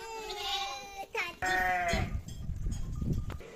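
Sakız crossbreed sheep and lambs bleat several times in quick succession up close, followed by muffled shuffling and low background activity.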